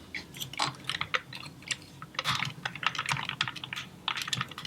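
A Hot Toys Transformers Optimus Prime action figure arm being moved through its ratchet joints, giving a quick run of small, close plastic clicks in irregular bursts, faint and with no talking.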